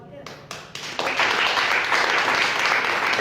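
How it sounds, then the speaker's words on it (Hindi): Clapping from a church congregation, starting with a few scattered claps and quickly swelling into loud, sustained applause that fills the rest of the moment. "और तेज बजाइए ताली"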